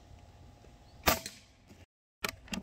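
An Umarex Gauntlet 2 PCP air rifle fires a single sharp, close crack, followed shortly by a couple of fainter clicks and a muffled thud.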